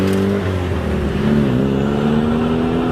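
Xenos E10R track car engine running loud and close, a deep steady drone that dips briefly then rises into a sustained higher rev, heard alone.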